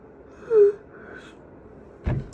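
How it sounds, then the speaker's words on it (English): A person gives a single short, breathy, voiced yawn up close, followed moments later by a brief soft exhalation. "I'm yawning so much."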